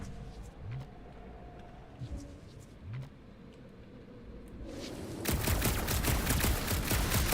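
Rapid gunfire from the Guardians of the Galaxy game breaks out suddenly partway through, a dense, loud, continuous volley over a low rumbling background with a few faint earlier thumps.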